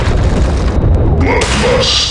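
Grenade explosion in the online shooter BlackShot: a loud, booming blast with broadband rumble that fills the short clip, followed by crackling debris and a brighter burst near the end.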